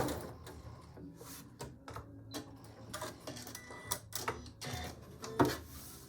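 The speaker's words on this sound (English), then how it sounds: "Do a couple of back stitches." A sewing machine stitches back and forth on a fabric quilt square, giving short bursts of quiet rapid clicking separated by pauses, close and faint with no talking.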